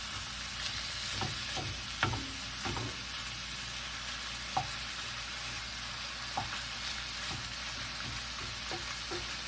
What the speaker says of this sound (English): We're just going to stir this around and crumble this ground beef